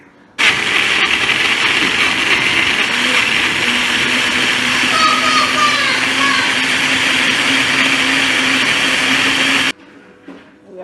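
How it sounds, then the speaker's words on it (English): A kitchen blender runs loud and steady for about nine seconds, grinding egusi melon seeds with a little water, its motor whine rising slightly in pitch partway through before it cuts off abruptly. "I'm going to add a little water. To help the blender. Cover it up, then I will blend it."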